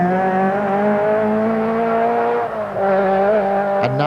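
Austin Rover rally car on a stage of the 1986 Circuit of Ireland Rally, its engine note loud and close, revving in sustained harmonic tones that dip briefly then climb again, ending with a sharp transient.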